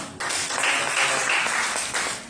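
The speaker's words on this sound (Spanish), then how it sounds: "Denle un fuerte aplauso al Señor" A church congregation bursts into strong applause during a worship service, a loud, sustained roar of clapping that starts abruptly and holds steady for about two seconds.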